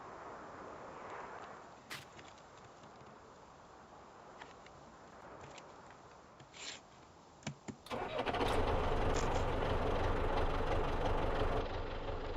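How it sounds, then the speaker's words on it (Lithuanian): A tractor in the Farming Simulator 19 farming game cranks and starts, a few faint clicks over quiet ambience giving way to a loud, steady engine idle that continues to the end. "Na va, užkūrėme traktorių"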